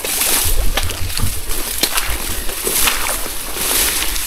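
Repeated splashing and sloshing footsteps through muddy, boggy water, close and uneven, with a faint voice in the background.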